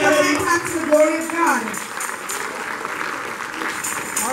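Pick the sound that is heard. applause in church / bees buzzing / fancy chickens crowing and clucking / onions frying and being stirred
applause in church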